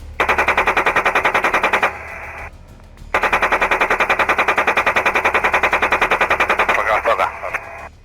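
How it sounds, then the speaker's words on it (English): An Israeli Apache helicopter's 30mm cannon fires at drones in two long rapid bursts of rhythmic, loud shots separated by a brief pause, with a voice speaking over the gunfire. "the Israeli Apache helicopters followed the drones and used their 30mm cannons to shoot the drones down mid-air from close to medium range"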